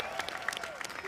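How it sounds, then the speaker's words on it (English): Audience applause breaks out during a live Simon Says game at a streamer games event, a brief burst of dense, close clapping. "Give her a nice round of applause."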